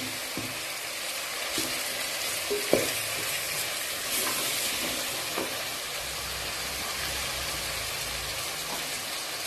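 Chana daal frying with salt and spices in a pan, a steady broad sizzle with occasional scrape and clink of a spoon stirring, close and even throughout, without speech.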